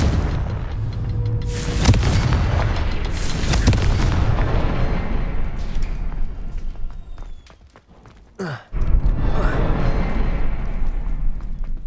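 A Confringo blasting spell cast in Hogwarts Legacy, giving booming blasts in quick succession, then a brief lull broken by a sharp whooshing hit and more rumbling impacts.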